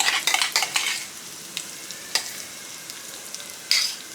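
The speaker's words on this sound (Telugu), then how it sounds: "ఒకసారి మంచిగా కలిపేసుకుంటే మన తోటకూర పచ్చడి రెడీ" A spoon scrapes and stirs through thick amaranth leaf chutney in a bowl, with a quick burst of mixing strokes at first and then scattered sharp scrapes, close and clear.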